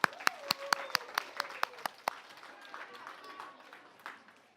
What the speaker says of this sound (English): Everyone give a round of applause for Quinn and Josh